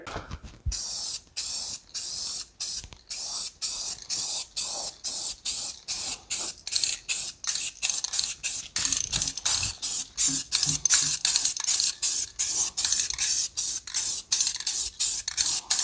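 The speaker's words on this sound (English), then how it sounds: "we're just gonna get this sprayed" Spray gun coating a Ford FE engine during a budget rebuild, heard as a long run of short hissing bursts, each a second or less, steady and close with brief gaps between them.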